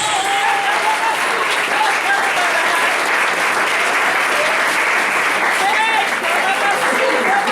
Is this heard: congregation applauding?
yes